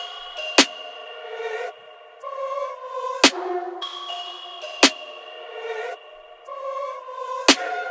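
Dark drill beat with sparse sharp clap or rim hits, one landing slightly late and offset to the side, over sustained dark synth chords and melody; four crisp hits across the loop, no voices.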